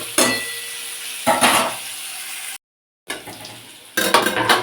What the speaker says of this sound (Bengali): আলু যা ভাজার ভাজা হয়ে গেছে